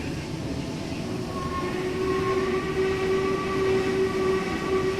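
A streamlined LMS steam locomotive running in the Train Simulator 2016 game on the Settle–Carlisle line, with a continuous rolling rumble and a sustained whistle tone rising in over the last few seconds.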